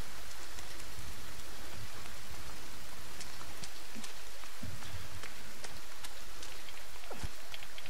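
Rain falls steadily in the survival video game The Forest, a constant dense hiss with scattered sharper drop taps throughout, even in level and heard alone without voices.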